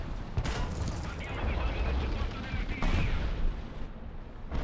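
Tank gunfire and rolling battle noise in War Thunder, with sharp shots near the start and again near three seconds over a dense, continuous rumble of engines and distant fire. A voice is heard over it.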